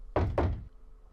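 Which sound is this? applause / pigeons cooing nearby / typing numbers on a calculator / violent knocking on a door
violent knocking on a door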